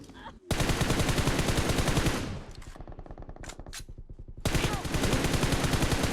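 Rapid automatic gunfire in the mobile battle-royale game PUBG Mobile, dense loud bursts that ease off briefly midway and then resume just as hard, with a player's voice faintly underneath.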